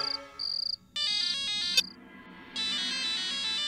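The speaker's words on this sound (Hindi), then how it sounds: "जय का फोन है।" A phone ringtone sounds for an incoming call: a bright, repeating electronic melody in several bursts, separated by short pauses, loud and close with no talk over it.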